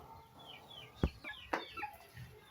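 Chickens clucking at close range in a quiet yard, a few soft clucks and sharper calls scattered over a couple of seconds against faint background hiss.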